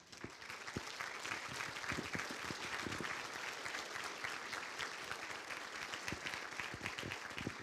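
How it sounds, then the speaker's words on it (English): Sustained applause from a banquet audience honoring Penguin Club board members at a university scholarship ring banquet, dense clapping from many hands filling the room steadily throughout. "Let's give these committed ladies and gentlemen a round of applause."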